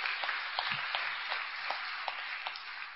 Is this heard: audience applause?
yes